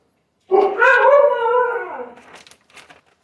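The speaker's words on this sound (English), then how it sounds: "Sorry about the noisy dogs." Dogs howl loudly and close by in one sustained, wavering cry of about two seconds, tapering into softer whimpering yips.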